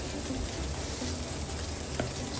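Pork ribs pan-frying in hot oil in a wok make a steady, close crackling sizzle with a few sharper pops, continuous and alone.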